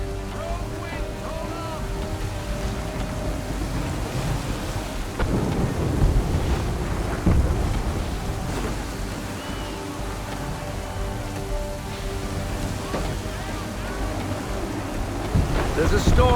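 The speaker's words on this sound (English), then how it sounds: "There's a storm coming, Captain." A storm at sea in the Assassin's Creed 3 video game brings rolling thunder, rain and crashing waves around a sailing ship. It makes a dense, continuous roar, with heavier surges at intervals.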